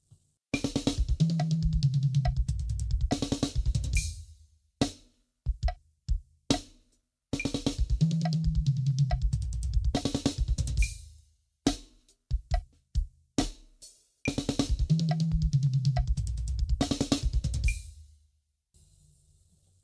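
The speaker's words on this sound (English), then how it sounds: "But now if you want to play it in 32nd notes, it's going to sound something like this." A drum kit pattern played in 32nd notes: rapid, dense bursts of drum hits and rolls alternating with sparse sharp cymbal and rim accents, repeated three times, close and dry without any talking.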